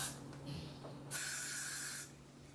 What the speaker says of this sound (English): Go in and spray again.